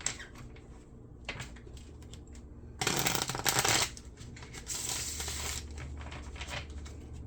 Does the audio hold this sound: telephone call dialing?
no